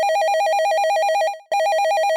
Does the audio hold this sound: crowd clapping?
no